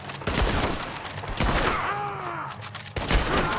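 Heavy booming cannon blasts in Red Dead Redemption 2, several loud bursts with a brief gap in between, plus whooshing and whistling effects.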